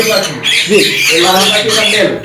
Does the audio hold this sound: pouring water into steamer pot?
no